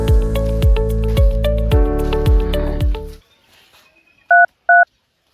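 After a stretch of music fades out, two short, clean telephone keypad tones beep in quick succession as a number is dialed, close and clear with no one speaking.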